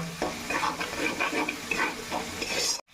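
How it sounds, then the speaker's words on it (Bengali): Ginger and green chili sautéing in a hot pan, a steady close sizzle broken by repeated stirring scrapes, with no talking, ending in a brief silence. "সুন্দর করে এই আদা আর লঙ্কাটা কষিয়ে নেব"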